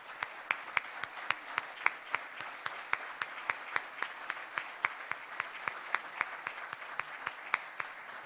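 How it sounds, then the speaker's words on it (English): Veterans standing at a Veterans Day tribute are applauded by an audience, a continuous wash of clapping heard from a distance, with a few louder individual claps standing out near the front at a fairly regular rhythm. "let's give them a round of applause"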